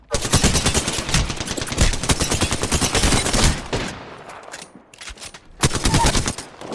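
Dense rapid automatic gunfire rattles in long bursts in an Apex Legends match, then briefly thins before another loud volley.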